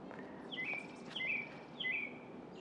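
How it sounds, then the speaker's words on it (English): Three brief, bright bird chirps ring out at even intervals over a soft outdoor hush in a home garden, quiet and somewhat distant. "But I do have a lot of birds."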